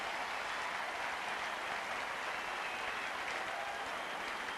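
Tennis crowd at an Edberg–Henman match applauds steadily after a set point, a broad, even wash of clapping at moderate distance with no voices on top.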